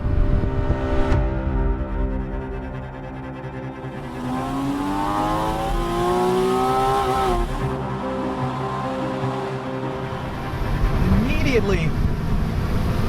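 A Porsche Boxster 981 sports car accelerates hard on an open road, its engine revving up through the gears with rising, wailing pitch, close and loud, and a voice speaks briefly near the start.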